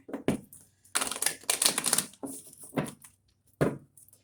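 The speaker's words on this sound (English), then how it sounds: "Two more shuffles, Cancer." Crisp papery riffling and slapping of cards being shuffled, several quick bursts separated by short pauses, close to the microphone.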